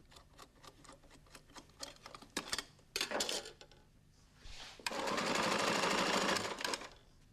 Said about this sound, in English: The Speedbinder sews about 3 to 4 metres of skirting strip in a minute, about 200 metres an hour.